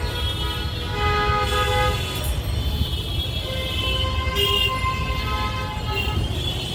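Busy city road traffic near Dhaka's High Court and Dhaka University, with car horns tooting repeatedly over a continuous low engine rumble, moderately loud and close.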